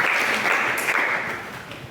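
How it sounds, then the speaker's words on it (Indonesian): Church congregation applauding during an Indonesian sermon on growing through trials, a dense, steady wash of many hands clapping at once that stays loud for two seconds and then eases off a little. "Boleh berikan tepuk tangan."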